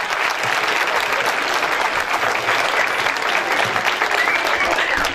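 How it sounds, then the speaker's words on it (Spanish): Steady applause from an audience at a school award ceremony as a student is honored, a dense, even clapping that stays loud and continuous for the whole stretch without pauses. "Fuerte el aplauso para Leandro."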